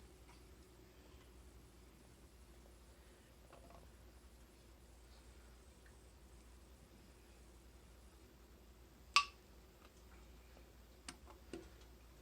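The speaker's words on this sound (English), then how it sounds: "That little ping noise means that the jars are sealing." Canning jars of homemade chicken broth give one sharp metallic ping as a lid seals, then two smaller ticks later, over a quiet steady background hiss.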